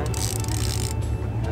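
Steady mechanical clicking and whirring of a fishing reel being cranked on a boat on Lake Michigan, continuous and close up.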